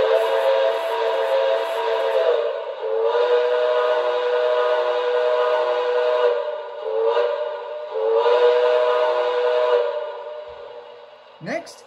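A model B&O Big Six 2-10-2 steam locomotive whistle blows in several long, steady blasts separated by brief pauses, clear and fairly loud, with no other sounds around it.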